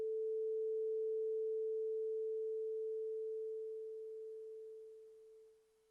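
A steady pure test tone from a microphone whose phase is flipped, holding level and then fading steadily as the mic moves toward cancellation, with no other sound.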